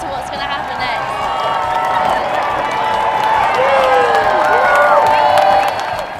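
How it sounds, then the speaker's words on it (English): A large crowd cheers and shouts steadily at an open-air team parade celebrating the Olympic and Paralympic Games, with a dense, continuous roar of voices, whistles and whoops that swells slightly toward the end. "It's just great to see all the crowd everywhere we go, always cheering, always waving and smiling"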